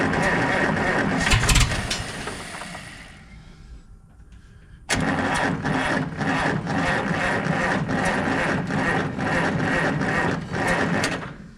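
A tractor engine (G1050 LP) cranks and sputters, dies down briefly, then catches and settles into a loud, steady chugging idle; a voice is faintly present.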